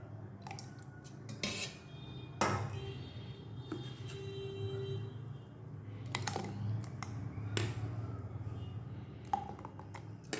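Sugar syrup stirred into mango pulp with a utensil, giving soft wet squishing and scraping broken by a few sharp clinks against the bowl, quiet and close.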